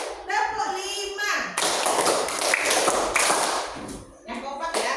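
Children in a classroom clap out the rhythmic 'tepuk 5' hand-clapping game with a teacher, a dense burst of group claps filling most of the stretch between brief pauses, with a voice leading before and after.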